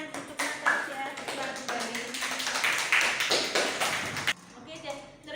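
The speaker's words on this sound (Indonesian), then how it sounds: "beri tepuk tangan untuk Natasha" A class claps for Natasha in a short round of applause that rises and holds for about four seconds. It then stops abruptly as a voice carries on speaking.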